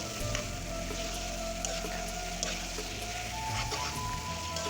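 Ginger-garlic paste and green chili dropped into hot oil with taro greens in an Assamese fish dish crackle and sizzle steadily and closely, with fine spattering throughout and no talking.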